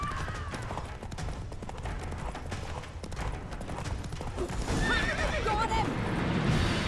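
Roach, a horse in The Witcher 3, gallops with a rapid drumming of hooves through a noisy battle scene, then lets out a loud, close whinny that rises and falls near the end.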